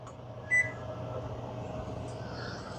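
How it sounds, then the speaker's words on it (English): Kitchen timer being set while spaghetti and sauce cook in a Dutch oven, giving a couple of short electronic beeps over a quiet, steady appliance hum. "set the timer for 10 minutes"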